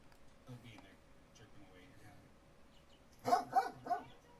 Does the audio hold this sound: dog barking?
yes